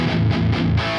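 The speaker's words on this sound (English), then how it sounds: "Now this is the 5150 crunch on its own." A Peavey 5150 guitar amp on its crunch channel, heard alone: a loud, distorted riff of a few chugging chord hits in a quick rhythm lasting about a second.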